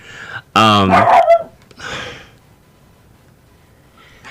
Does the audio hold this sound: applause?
no